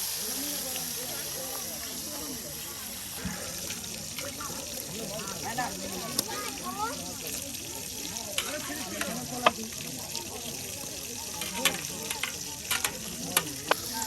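Fish fry in a pan with a continuous close sizzle and occasional stirring scrapes and spatters, while people talk over the cooking.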